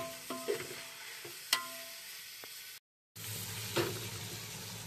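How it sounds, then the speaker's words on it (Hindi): Onions frying in a pan for an aloo chicken curry, a quiet sizzle with a few clinks and scrapes of stirring, then a brief gap before a steadier, louder sizzle resumes. "प्याज देखिए आधा ये भुन जा गया है, आधा फ्राई हो गया है।"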